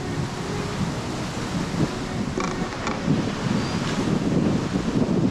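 Ocean waves washing onto a beach in Siargao, Philippines, a broad continuous rushing roar mixed with heavy wind buffeting on the microphone, with no clear individual breakers standing out.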